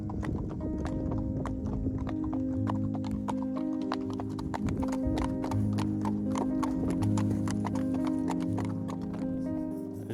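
Horse hooves clip-clop in a steady, close rhythm on a long-distance horseback ride through aspen and fir country, with a nearby horse whinnying over the continuous footfalls.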